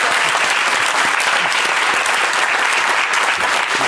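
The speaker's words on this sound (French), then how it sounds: "Je voudrais qu'on applaudisse Alexandre" A TV studio audience breaks into loud, sustained applause, a dense, even roar of many hands clapping close by without a break.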